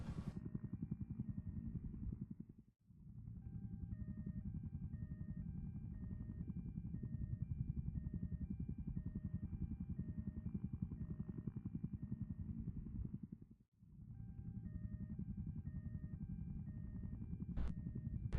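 A helicopter airlifting injured driver Earnhardt Jr. to a university hospital gives off a loud, steady rotor and engine drone that runs the whole time, with two brief dips in level, and no voices over it.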